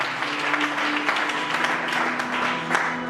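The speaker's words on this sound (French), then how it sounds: "Acclame très fort, acclame Jésus." A church congregation applauds steadily, dense clapping filling the space with a faint sustained tone beneath, lasting a few seconds without speech.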